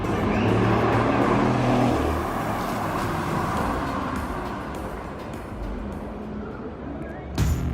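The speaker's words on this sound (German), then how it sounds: "der Shakedown ist losgegangen und ich habe das allererste Mal das Formel-E-Auto gesehen" Formula E electric race car on a street circuit in Zurich during a shakedown session, a steady broadband whir and rush of the car passing, with crowd ambience and faint voices in the background.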